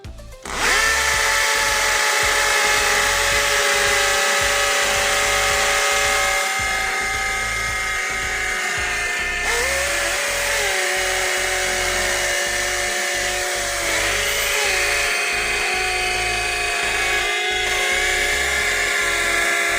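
Cordless hammer drills, a DeWalt DCD796, a Bosch 18V-EC and a DCA ADJZ03-13, bore into concrete with a 10 mm Bosch masonry bit on hammer mode, giving a loud, continuous high whine with rapid rattling impacts close by.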